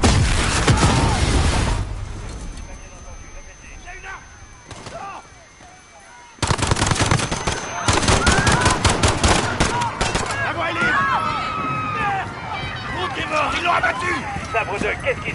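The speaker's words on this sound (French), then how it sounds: "Il y a eu une détonation à Piccadilly Circus. Des coups de feu, plusieurs agents touchés." Loud bursts of rapid gunfire and heavy blasts fill a Modern Warfare video game SWAT mission, with shouting French voices mixed in and a brief quieter lull midway.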